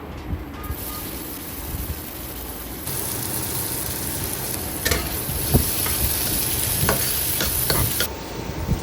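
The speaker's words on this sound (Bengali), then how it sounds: "এখন কড়াইতে দিয়ে দিচ্ছি তেল এবং দিয়ে দিব পেঁয়াজ কুচি" Chopped onions frying in oil in a kadai give a loud, continuous sizzle and crackle, with a few sharper pops and stirring scrapes partway through.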